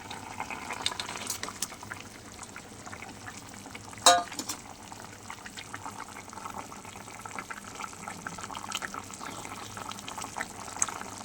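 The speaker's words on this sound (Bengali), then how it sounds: "দেখো বন্ধুরা, ঝোল বেশ ভালোভাবেই ফুটে গেছে।" Pangas fish curry broth bubbles at a steady boil in a pot, a dense, continuous simmering hiss with a single sharper clink near the middle and no talking.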